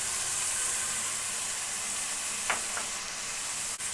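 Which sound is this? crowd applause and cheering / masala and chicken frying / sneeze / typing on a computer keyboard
masala and chicken frying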